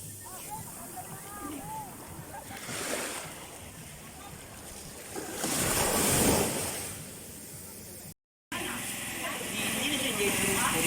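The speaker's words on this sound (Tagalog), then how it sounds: "Ang hampas ng alon." Ocean waves crash on a crowded beach in Batangas, with two broad rushing swells rising and falling over several seconds and people talking in the background.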